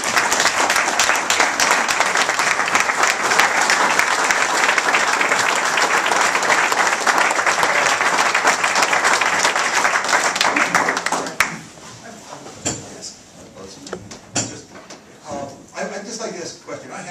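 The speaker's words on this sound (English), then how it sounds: "I'd just like to say they deserve a big round of Everything applause and our thanks." Loud, dense applause from the audience at a township committee meeting fills the room for about eleven seconds, then breaks off abruptly into quieter room noise with scattered knocks and a few faint voices.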